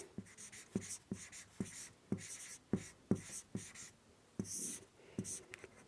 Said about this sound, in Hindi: यहाँ मैं लिखता हूँ